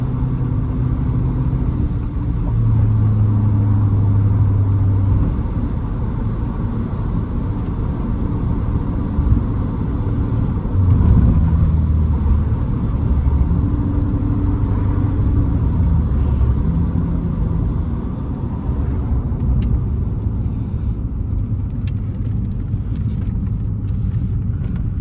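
A 1988 Porsche 928 S4 V8 driving on winding country roads, heard from inside the cabin: a loud, continuous low engine rumble and road drone with mild swells as the throttle changes.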